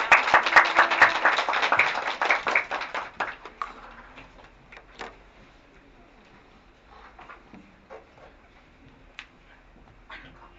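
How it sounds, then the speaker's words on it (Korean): A forum audience claps to welcome the speaker, a brief round of fairly close, distinct claps that fades after about three seconds, leaving scattered isolated claps and quiet room noise. "박수로 맞아주세요."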